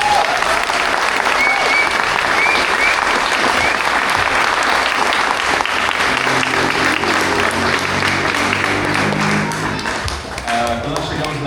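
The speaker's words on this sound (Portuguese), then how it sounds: "então eu vou pedir novamente salve de palmas" A crowd at a church Christmas program applauds in a loud, sustained wash of clapping that carries on for about ten seconds and eases slightly near the end.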